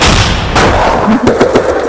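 Loud, close gunfire bursts out in several sharp rapid shots, booming over a rumbling background.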